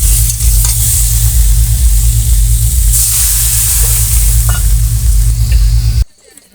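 Potatoes with salt, turmeric and spices sizzling loudly and steadily in a pan, with occasional stirring scrapes, before cutting off abruptly near the end.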